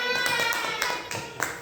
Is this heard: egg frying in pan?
no